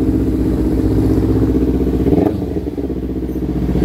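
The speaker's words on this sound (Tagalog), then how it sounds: "So, push start. Eh, yan, umaandar na." A Kawasaki Ninja motorcycle engine idles loudly and steadily after a push start, with a throbbing, uneven rumble that dips briefly midway before settling again.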